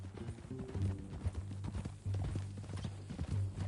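Horse hooves clip-clopping at a steady walking pace in the video game Red Dead Redemption 2, close and clear, with a low engine-like drone running underneath.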